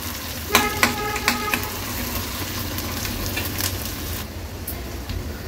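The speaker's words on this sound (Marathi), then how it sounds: "कांदा मीडियम फ्लेमवर आपल्याला शिजवून घ्यायचा आहे।" Chopped medium onion frying in oil over a medium flame: a steady close sizzle, with a few quick clinks of stirring near the start.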